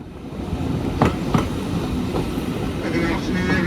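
Swanage Railway steam train rolling at a sedate pace through suburbs, a steady rumble of carriages on the line with occasional clacks of wheels over rail joints, heard from on board.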